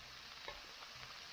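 Meat, tofu and enoki mushrooms fry in a pan, giving a steady close sizzle with a couple of brief pops and crackles, no voices.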